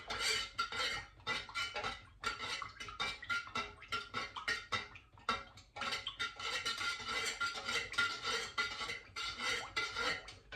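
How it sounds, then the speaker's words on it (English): Melted candle wax being stirred in a container, with repeated light scraping and clinking strokes in an irregular rhythm, close and moderately loud. "And then what I do, I keep stirring it."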